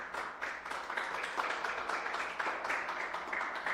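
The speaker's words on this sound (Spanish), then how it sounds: "Den un aplauso al Señor." Church congregation applauding during a service, a soft, steady patter of many hands clapping, distant and fairly faint, continuing evenly throughout.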